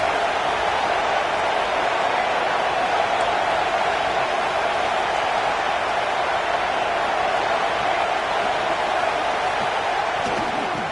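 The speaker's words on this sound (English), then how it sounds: "Listen to this crowd just shaking the girders of this place, trying to help their defense" A packed football stadium crowd roars steadily for its defense, a dense, continuous wall of cheering that holds at full volume throughout with no pauses.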